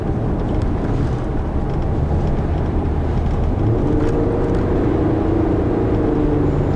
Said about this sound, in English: the engine makes a, a pleasant sound when it's revving